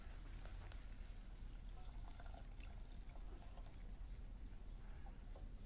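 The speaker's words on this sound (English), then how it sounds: "Add the couscous and a cup of water." Water from a cup poured onto couscous in a pan, a faint, soft trickle and splash heard quietly in a kitchen, with a light clunk at the very end.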